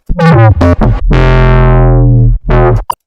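Distorted synth bass from a track, with a few short stabs followed by one long, loud, harmonically dense sustained note that slowly loses its upper overtones, then another short burst, all heard alone.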